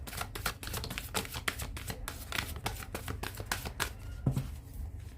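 Tarot cards being shuffled by hand: close, rapid, rhythmic riffling flicks in quick bursts lasting several seconds.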